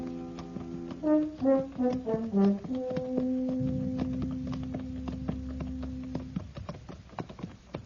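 Horses' hooves clip-clop steadily up a nearly deserted main street in a hot Western frontier town, a radio drama effect heard alone while a melodic musical cue plays over the first few seconds and a low drone sustains beneath.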